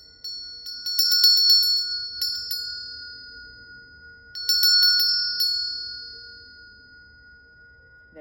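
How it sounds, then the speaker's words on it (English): A small bell rings clearly, struck in two bursts of several quick dings, each ring decaying slowly into silence, close and alone with no talking. "I forget that the bell inside is longer than the bell outside"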